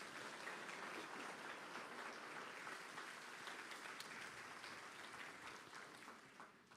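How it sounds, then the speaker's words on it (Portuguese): A church congregation claps for the Lord after a pastor's sermon cue, a broad sustained wash of hands that stays fairly steady and fades gently toward the close, soft and distant in level. "Ao sentar, dê ao Senhor a sua melhor salva de palmas."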